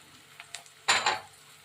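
Ragi flour dropped into a pan and stirred for ragi upma, heard as a few light taps followed by a short burst of scraping and faint sizzle, close and brief, with no talk.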